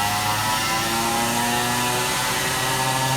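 Motorized bicycle engine running on a dyno, a loud continuous buzzing two-stroke drone held at a steady high pitch close by, with no voices.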